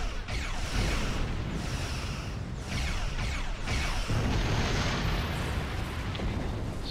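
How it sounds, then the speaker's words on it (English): Repeated heavy explosions in the video game Star Trek Online boom one after another, dense and rumbling, with bursts of crackling debris and no talking. "Explosions are good in this game."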